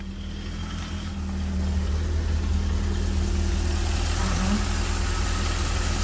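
An old Italian car engine idles steadily during a tune-up. Its low, even rumble runs continuously and fairly loud throughout, with no voices.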